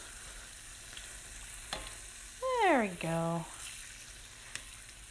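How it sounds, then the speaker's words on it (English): Chicken for fajita sliders sizzles in a pan, a soft steady frying hiss with louder bursts as the meat is stirred and scraped, under brief casual speech. "Ooh, nice light sizzling"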